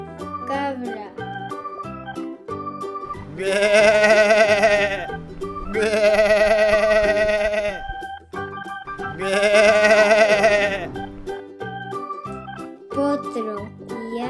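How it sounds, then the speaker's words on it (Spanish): Goats bleat three times in loud, wavering calls of about two seconds each, spaced close together over a light musical backing on a farm-animals theme. "cabra"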